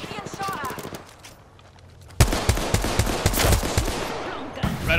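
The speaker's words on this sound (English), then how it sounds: "Being shot at." Gunfire bursts in a video game shootout, starting after a quieter stretch with a sudden loud onset, then dense rapid repeated shots continuing near and loud under game ambience.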